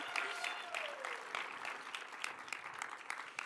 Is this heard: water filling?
no